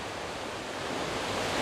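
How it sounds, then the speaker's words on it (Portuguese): Caracol waterfall in Canela, Brazil, heard from its base as a dense, steady roar of falling water, loud and continuous, swelling slightly toward the end with no voices. "A gente está literalmente nos pés da cascata e olha o arco-íris."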